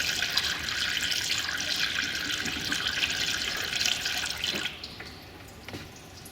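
Water pours steadily into the open radiator of a Ford Crown Victoria with the engine off during a coolant flush, a continuous splashing rush that stops abruptly near the end, leaving quiet dribbles.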